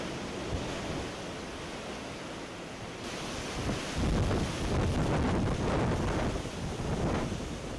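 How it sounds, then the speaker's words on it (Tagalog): Roaring wind from Super Typhoon Yolanda (Haiyan) during landfall batters the microphone in a continuous heavy rush, surging louder in gusts partway through. "kalakas ang hangin nang abutan kami ng ikatlong landfall ng Super Typhoon Yolanda"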